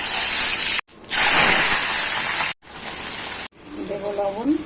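Dried red chillies crackling as they drop into hot oil in a pan for a chicken curry, a steady broad hiss broken by brief pauses, with a voice speaking over the later part.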